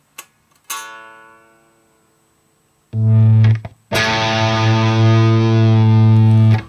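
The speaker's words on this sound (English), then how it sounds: "I can actually bend the chord out of tune, which is just by pressing down on it." Distorted chords on a Framus baritone guitar in drop B ring out, decaying, then a loud sustained chord wavers slightly in pitch as pressing down bends it out of tune.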